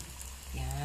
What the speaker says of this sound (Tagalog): 4 to 5 minutes lang ang pagpiprito ng isang shrimp ball